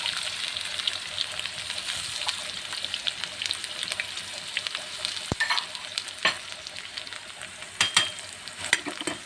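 Cumin and mustard seeds sizzle and crackle in hot oil, a steady close frying hiss with faint stirring and sharp pops scattered throughout, no voices.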